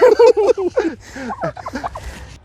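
A specially bred crossbred turkey on a Thai farm gobbles in rapid, loud, wavering bursts close by, followed by softer, broken calls.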